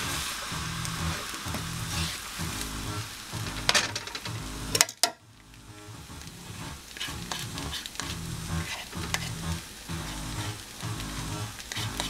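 A pan of tofu scramble with potato and vegetables sizzles steadily while being stirred, with scraping strokes and one sharp clatter midway, close and moderately loud with no talking.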